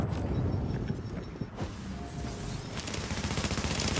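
Rapid bursts of video game gunfire crackle and rattle in dense volleys, sustained and fairly loud throughout with no talk.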